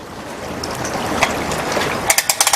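A boat trailer winch ratchets as a boat is wound up onto the trailer, a run of sharp mechanical clicks growing denser toward the end over a steady background rush.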